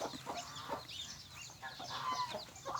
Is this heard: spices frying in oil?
no